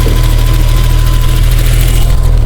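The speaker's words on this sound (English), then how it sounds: "typical of an older BMW engine, it is a little bit clicky" Older BMW E30 320i inline 2-liter six-cylinder engine idling, a steady loud low rumble with a slight clicky ticking texture, recorded close to the engine bay, no voices.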